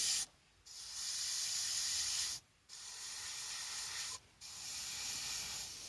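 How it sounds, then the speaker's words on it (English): An airbrush sprays paint over a template in three sustained hissing bursts, each a couple of seconds long and separated by brief pauses, close and steady. "then we move this one so that them points are touching them points, and then we spray it again"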